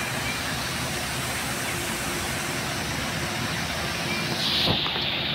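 A waterfall in Fujairah gives a steady, dense rush of falling water, a constant broad hiss that stays even and fairly loud close by, with a brief faint knock near the end.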